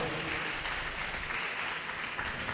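A church congregation claps loudly and steadily during a sermon, a dense, even wash of many hands that holds without pause for the whole stretch.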